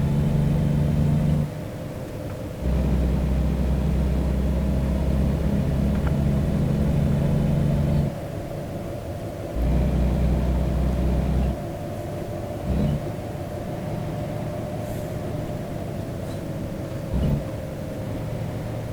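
A truck engine in American Truck Simulator drones and revs through gear changes, its deep steady tone dropping out and returning in long blocks, loud and continuous.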